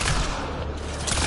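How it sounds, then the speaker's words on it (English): A single loud, dense blast of a pistol shot in the video game Mass Effect Andromeda, filling the moment with a broad rush that tails off briefly before another surge. "loud pistol."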